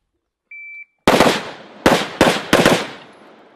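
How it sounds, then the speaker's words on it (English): Rapid bursts of gunfire during a fast shooting and moving drill, a short beep followed by a long volley and then three more close, loud bursts with brief gaps between them. "Fast shooting, fast moving across."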